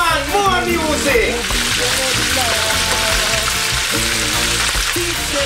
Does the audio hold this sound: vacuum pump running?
no